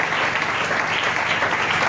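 Loud, sustained applause from a church congregation acclaiming the Lord during a service, a dense and continuous roar of many clapping hands close to the microphone.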